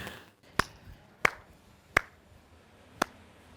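Hand claps in a TV drama scene: four sharp, close, separate claps at a slow, uneven pace in an otherwise quiet room.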